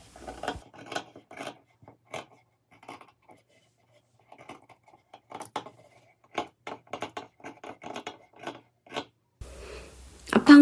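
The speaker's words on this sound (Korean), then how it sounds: "다시 그려준 패턴을 시접선을 남기고 잘라줍니다." Scissors snip through a paper dress pattern, leaving a seam allowance, in short close bursts of crisp cutting and rustling separated by quiet pauses, irregular in rhythm, ending in a louder shuffle of paper. No voices.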